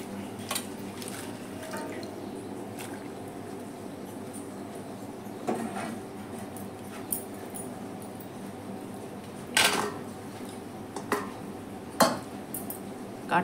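Vegetable stalks going into a pot of simmering half-cooked lentils, with continuous bubbling and splashing and several sharp metallic clinks of a utensil against the pot.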